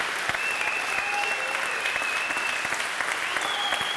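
Applause for the Barcelona World Race 2014-2015 champions at a press conference, a dense, even crowd clapping throughout, with faint high whistle-like tones over it and no talk.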